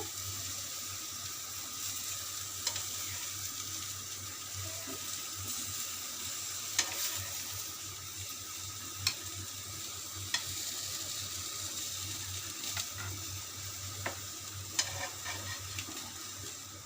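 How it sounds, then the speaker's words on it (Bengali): Pieces of ash gourd fry in hot oil in a kadai, giving a continuous sizzle broken by occasional sharp clicks and stirring knocks, close by and with no talking. "বাকি চাল কুমড়োগুলোকেও আমরা ভেজে নিচ্ছি ওই একইভাবে"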